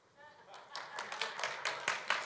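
A scattered round of clapping from an audience answering a show-of-hands question at a French talk, building from a few claps into moderate applause, with a voice faintly underneath.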